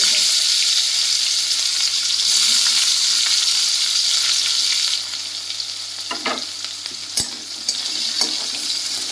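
Chopped onion fries in hot oil for a duck egg curry, a dense, close sizzle that drops somewhat midway, with occasional scrapes and a sharp clink from stirring, no talking.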